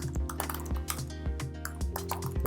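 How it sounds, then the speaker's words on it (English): Keys clatter on a computer keyboard while someone enters code in Visual Studio Code, a close, busy run of rapid clicks and taps with no talking. "At the same time I'm typing on the DFM"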